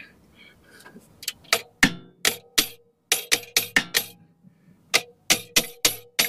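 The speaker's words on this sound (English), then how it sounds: "I'm going to have to hammer that pressure plate in a bit." Repeated sharp metallic hammer strikes on a clutch pressure plate of an Iveco Daily van, coming in quick irregular bursts of blows with brief pauses between groups.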